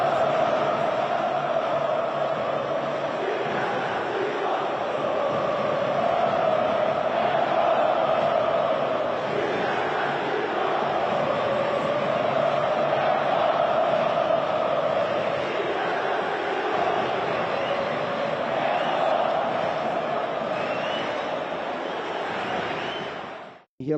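A dense football crowd of Fluminense supporters chants and shouts together in a steady, sustained roar that stays loud for the whole stretch and cuts off abruptly at the end.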